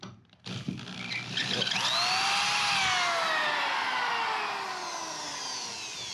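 A power drill strains to drive tight screws on a horse trailer, whirring up to a loud sustained whine with shifting pitch that holds steady and close, no talk.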